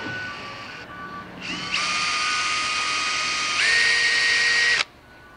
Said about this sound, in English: I'm going to slowly